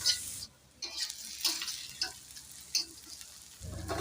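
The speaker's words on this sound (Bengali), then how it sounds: "আমি এখানে মিডিয়াম লো হিটে পেঁয়াজটাকে ভেজে নিচ্ছি" Onions sizzle in oil in a thin pan over medium-low heat, a steady close crackle broken by several sharp stirring ticks of a spatula.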